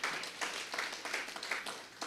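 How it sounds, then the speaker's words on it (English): Faint audience applause at a live-streamed gathering, a thin patter of scattered hand claps with a few louder bursts, steady for about two seconds with no voices over it. "let's give him a round of applause"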